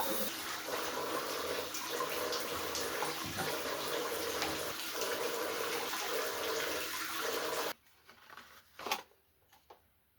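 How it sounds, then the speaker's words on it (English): A home shower runs in a steady, loud hiss of spraying water for about eight seconds, then cuts off, leaving a few faint drips and small knocks. "Let's shower."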